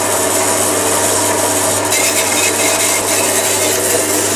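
A power saw grinds through an EN19 steel workpiece up close with a loud, steady rasping scrape over a constant motor hum, no voices.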